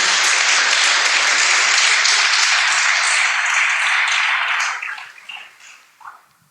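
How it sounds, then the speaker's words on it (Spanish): Congregation in a church clapping loudly together, a thick sustained roar of many hands that holds steady before fading out, leaving a few scattered last claps. "Puede darle palmas fuertes al Señor"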